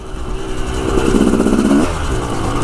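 A motorcycle engine rumbles steadily on a trail at Hollister Hills, rising in pitch as it revs up mid-ride and then settling back to a lower drone, close and loud throughout.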